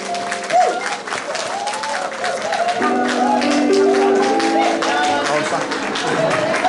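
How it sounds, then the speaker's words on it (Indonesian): At a Good Friday church service, the congregation breaks into loud, steady applause that builds and holds, mixed with voices and sustained tonal sounds in the room. "Tepuk tangan buat Tuhan Yesus."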